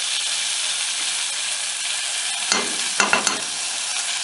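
Two spoonfuls of margarine melting in a hot pan while making carrot cake give a steady, loud sizzle, with a few stirring scrapes and clicks toward the end.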